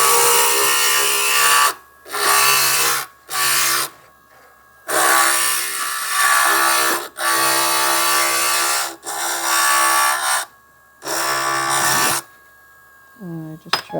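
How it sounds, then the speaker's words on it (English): Loud power grinding in an artist's workshop, running in repeated bursts of several seconds separated by short pauses, close and harsh, ending with the tool spinning down. "that's the grinding stage"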